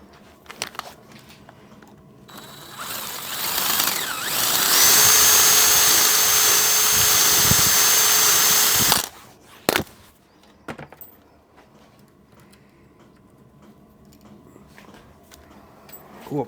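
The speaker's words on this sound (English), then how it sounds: "Go up a couple of drill sizes and it should be good." A power drill whirs steadily for several seconds, loud and close, then stops, with a few clicks and knocks before and after.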